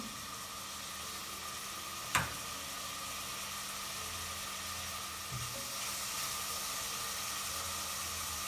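Chicken pieces browning in a hot pan on a raised flame, producing a soft, even sizzle that runs throughout, with a single sharp clink of utensil early on and no voices.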